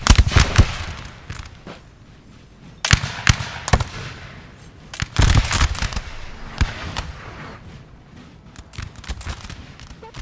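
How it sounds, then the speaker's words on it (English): Artillery firing in Napoleon Total War, repeated booming cannon blasts and crackling volleys in irregular bursts, some close and loud, others more distant, layered over a continuous rumble of battle. "Artillery going off back here."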